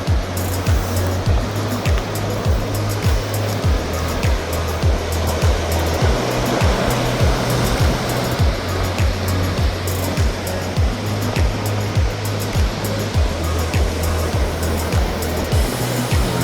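Ocean swell breaking along a New Zealand coastline, a continuous roaring wash of surf with a low rhythmic rumble underneath and no voices.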